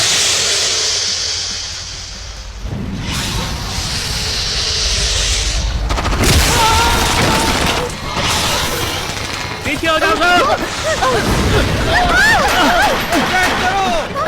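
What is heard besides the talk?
gunfire in action movie scene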